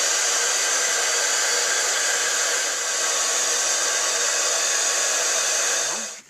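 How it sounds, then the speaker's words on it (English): A heat tool blows steadily to melt silver embossing powder on a card, a close, loud, even whooshing hum that runs for several seconds before cutting off abruptly. "Now we're going to grab our heat tool again, and let's heat this up."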